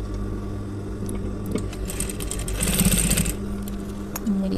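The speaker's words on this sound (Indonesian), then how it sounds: "Ujung satunya juga kita jahit sedikit." A sewing machine stitches the ends of a shirt collar with a steady, close mechanical whir and rapid needle chatter, rising briefly in the middle with no talking.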